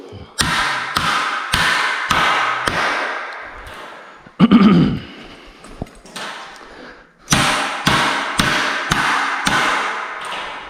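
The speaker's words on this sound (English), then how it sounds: "So just hammer the tips and that's it." A hammer strikes the tips of parts during a garage door repair, sounding as sharp metallic blows in quick clusters, with a scraping clatter midway before steady hammering resumes.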